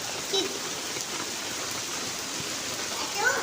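Steady rain hisses evenly throughout at a moderate level, with faint voices now and then in the background.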